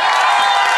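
A live audience at a Limburg broadcast concert bursts into loud cheering and applause for a singer, a dense, sustained crowd roar with whoops, brief and close.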